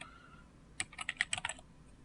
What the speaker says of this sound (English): I can type various cast members' names